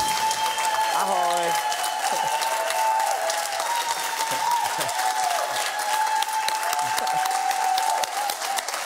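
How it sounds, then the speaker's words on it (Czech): Studio audience applause for guests on a radio-style morning show, a long, dense, even wash of clapping throughout, with a voice briefly heard near the start. "Toto je potlesk pre českých hostí."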